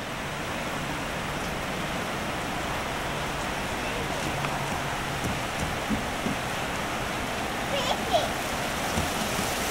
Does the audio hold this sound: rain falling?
yes